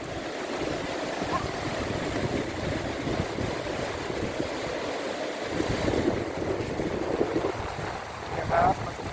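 Sea waves wash onto the beach at Hua Hin, a steady surf roar mixed with wind buffeting the microphone, with faint voices in the background.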